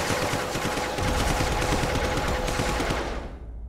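A robot-controlled gun fires in The Turing Test video game: a loud, continuous stream of rapid shots that runs for several seconds, then tapers off and fades at the end.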